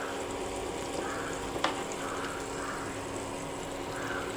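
Pieces of parava dry fish sizzle in a hot pan, a close, steady frying crackle with light stirring and a brief sharp tick partway through.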